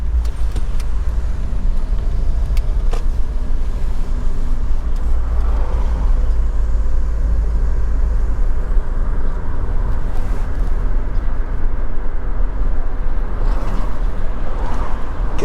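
A car drives along Old Greenvale Road in Mandeville, Manchester, Jamaica, amid morning traffic: a steady low engine and road rumble heard from inside, with a few faint clicks and passing-vehicle swells, no voices.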